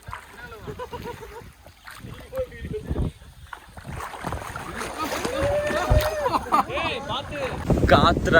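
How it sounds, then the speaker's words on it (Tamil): Wind buffets the microphone during an off-road drive through water with a Thar and a Bolero near Attapadi, gusty rumbling bursts growing stronger toward the end, mixed with splashing and people talking. "காத்து சரியான காத்து."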